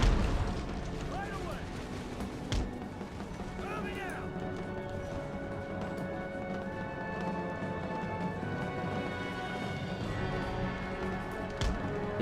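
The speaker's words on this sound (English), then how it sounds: "These guys will shoot their little cannons occasionally." Cannon fire from an Empire: Total War battle, occasional dull booms and thuds spread across a dense, steady wash of battlefield noise, distant rather than close, with no voices.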